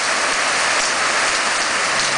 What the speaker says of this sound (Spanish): Y aquí hay un aguacero bien bueno. Buena lluvia.